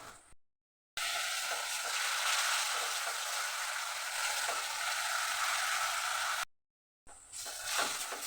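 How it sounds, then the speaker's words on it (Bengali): Spice paste with chopped tomato sizzles loudly in a pan after a splash of water for a bitter gourd and potato curry, a dense steady hiss broken by two brief silent gaps. "একটু জল দেবো মশলা কষাবার জন্যে।"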